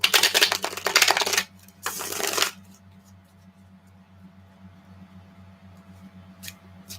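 Tarot cards shuffled by hand, two loud riffling bursts in quick succession close to the microphone, followed by a quiet room hum and a faint tap near the end.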